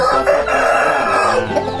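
A rooster crows loudly and close by, one sustained, full crow filling the whole moment with no talk over it.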